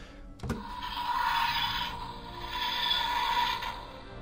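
After a sharp click, a first Doctor Who TARDIS toy plays a short, faint materialization effect: two rising and falling wheezing whooshes, with no voices.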